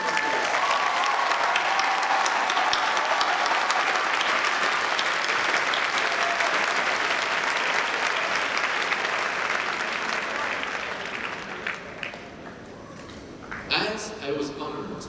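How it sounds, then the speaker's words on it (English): A large audience at a Class of 2022 commencement ceremony gives the graduating class a long, dense round of applause that stays loud before tapering off, with a voice briefly heard near the end. "Please, let's give them a huge round of applause."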